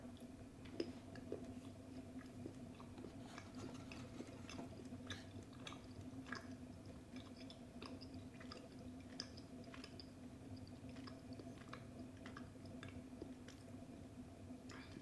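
Steady soft chewing of a piece of Elit chocolate, close to the mouth, with small wet squishy clicks repeating over a constant low background hum.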